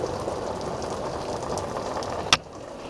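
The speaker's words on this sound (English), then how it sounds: "She's draining slow because there's a bunch of crap inside the boat, but it's draining." Water drains slowly from a boat hull through a small transom tab, giving a steady trickling, bubbling wash with one brief louder splash or knock near the end.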